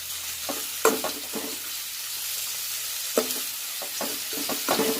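Chicken pieces with skin frying in oil for palak chicken gravy, a steady soft sizzle broken by several sharp scraping stir strokes of a spatula against the pan.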